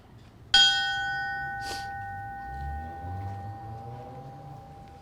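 A single memorial bell is struck once at a fallen firefighter memorial ceremony in Edmonton, Alberta, giving a clear, sharp ring that hums on and fades slowly, followed by a faint knock and low room noise.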